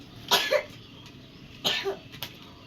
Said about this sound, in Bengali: কাশি হয়েছে তোমার